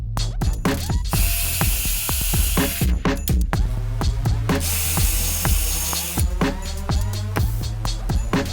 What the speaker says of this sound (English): I'm going to drill 3 holes in each strip.